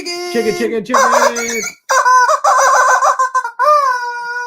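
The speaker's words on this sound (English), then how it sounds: "Chicken." Loud, harmonic fowl calls, most likely a chicken, carry over a live online hangout stream in several bursts with brief gaps, close and dominant with no talk over them.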